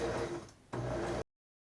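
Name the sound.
sewing machine stitching fabric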